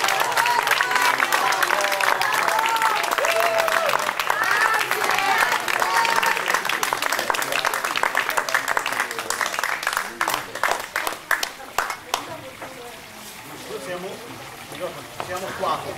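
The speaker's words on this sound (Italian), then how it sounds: "Un bel applauso." Audience clapping at an outdoor evening event of readings and music in Tuscania, a dense steady applause that carries for about twelve seconds and then thins into scattered claps and murmuring voices.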